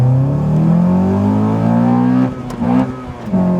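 Honda Accord Type S CL9 with a K24 engine revving hard under load, a loud, smooth engine note climbing in pitch with brief dips at gear changes, no voices over it.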